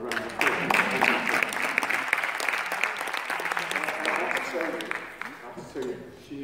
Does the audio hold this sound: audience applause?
yes